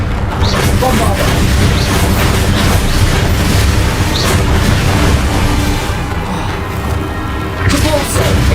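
Bombardo spell blasts in the Hogwarts Legacy video game, a dense, loud barrage of booming explosions and crashes layered over combat noise, continuous with brief swells, with voices shouting spell names over it.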